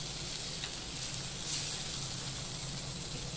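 Tomatoes and spice masala fry in a pan for a Gudi Padwa vegetarian thali, giving a faint, steady sizzling hiss with soft crackles throughout.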